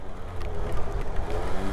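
Gilera DNA 50 scooter engine bogging and losing power under too much throttle, a steady low rumbling drone that stays loud and close throughout with slight fluctuations.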